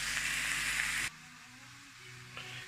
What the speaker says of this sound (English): So we are almost done with frying our corns, mushroom and onion.